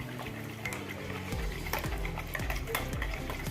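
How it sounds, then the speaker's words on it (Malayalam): A spoon or whisk scrapes and clinks rhythmically against a bowl as milk and egg are mixed for donut batter, a quiet repeated stirring with soft liquid sloshing. "മുട്ടയും ചേർത്ത് കൊടുത്ത് നല്ലപോലെ ഇളക്കി മിക്സ് ചെയ്യണം"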